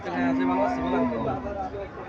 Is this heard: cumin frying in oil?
no